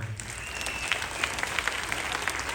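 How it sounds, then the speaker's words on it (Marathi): Audience applause at a Home Minister Paithani game show event, a dense steady wash of clapping that is fairly close and continuous throughout. "हात वरती करून सगळ्यांनी जोरात टाळ्या वाजवा"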